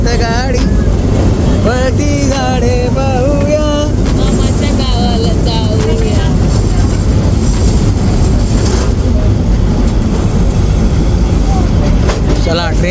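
The Matheran–Neral hill railway toy train runs along its mountain line, a loud steady rumble of wheels and carriages that fills the whole stretch, with people talking and a high, wavering voice over the noise.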